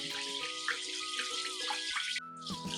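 Water running into a bowl of raw rice for soaking, a steady bright splashing pour with shifting tones as the level rises, close and continuous, with a brief dip near the end before flowing again.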